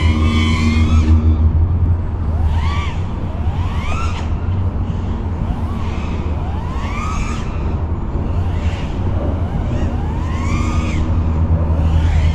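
Close, whining buzz of an FPV quadcopter drone's motors, pitch repeatedly sweeping up and down in quick surges as the craft rolls, pitches and turns around, over a constant low hum.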